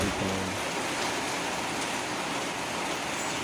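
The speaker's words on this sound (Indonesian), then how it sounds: "ini saat rekaman sedang hujan ya" Steady rain falls outdoors, a dense, even hiss of drops spattering on surfaces, continuous and fairly loud from start to finish with no voices over it.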